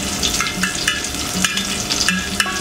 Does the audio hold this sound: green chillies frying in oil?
yes